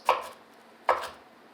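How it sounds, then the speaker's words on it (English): A knife cuts through a potato on a cutting board, giving two crisp, close chops about a second apart, each with a short thud of the blade hitting the board. "If you just rock your knife as you're cutting through it, it goes through like butter."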